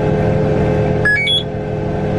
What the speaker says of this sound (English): That's the auto steer buzzer to get to the end.